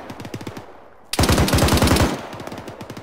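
Rapid automatic gunfire from ArmA 3 military-sim warning shots: short bursts, then a loud sustained burst of close, rapid shots, then more bursts at lower volume. No talking.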